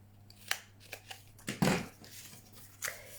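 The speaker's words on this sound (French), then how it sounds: "Vous venez couper ici, en fait, sur notre pli de 1 cm, là. Bien couper au milieu une petite fente." Scissors snipping a small slit into a 1 cm paper fold for a Halloween cauldron craft, a few soft, quiet cuts and crisp paper rustles spread across the moment with no talk.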